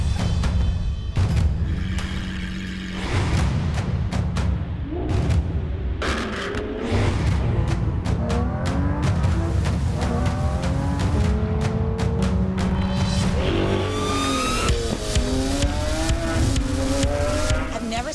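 A powerful Lamborghini SVJ supercar engine revs and accelerates repeatedly, gear shifts rising in pitch, with occasional pops and loud roaring throughout.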